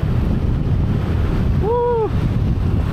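Steady, loud wind roar buffets the microphone on a bike in Da Nang, Vietnam, a dense rumbling rush with a brief whistling tone rising and falling partway through.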